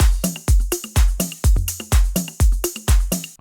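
Organic, groovy house drum pattern for indie dance, with a soft rounded kick, hand percussion and crisp hats repeating in a steady loop, loud and alone without any talk.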